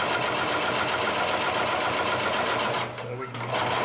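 A Consew 733R-5 heavy duty lockstitch sewing machine stitches through leather folded into a thick seam, running in a loud, steady, rapid mechanical whir that drops off briefly near the end.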